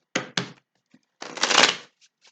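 A deck of tarot cards is shuffled by hand: two quick riffles, a brief pause, then a longer continuous riffle that swells and fades, close and crisp.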